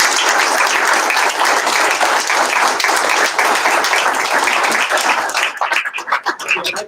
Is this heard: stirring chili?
no